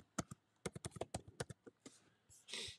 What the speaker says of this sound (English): Let's type in the keyword shoestring.